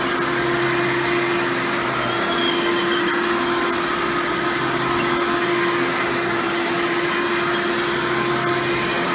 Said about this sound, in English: That noise you're hearing is just the front wheels squeaking.